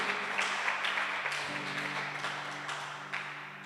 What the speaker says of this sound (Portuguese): Então aplaude aí